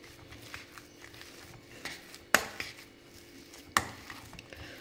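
Boiled potatoes being mashed in a pot with a masher for sabudana batata chakli: soft squishing with a few sharp metallic knocks as the masher strikes the vessel, fairly quiet.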